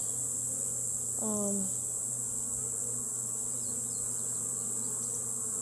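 Honeybees hum in a steady, continuous drone during a hive inspection, close and even throughout, with a brief voice-like sound partway through.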